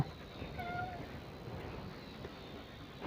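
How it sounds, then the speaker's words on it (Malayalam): A kitten in a home kitchen gives one brief, thin meow near the start, faint over a low background hiss, followed by quiet. "ഒരുത്തന് അടിയിലിരിപ്പുണ്ട് പൂച്ചക്കുട്ടൻ"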